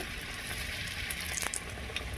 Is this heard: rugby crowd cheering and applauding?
no